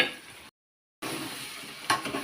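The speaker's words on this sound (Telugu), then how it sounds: "ముందుగా ఉడికించి పక్కన పెట్టుకున్న మాంసం కళాయిలో వేసుకొని ఒకసారి తిప్పి మూత పెట్టి పక్కన పెట్టుకోవాలి" Pre-cooked mutton tossed into a spicy paste in a kadai, giving a soft frying sizzle with stirring scrapes; the sound cuts out briefly to silence, then resumes with a louder clatter near the end, no voices.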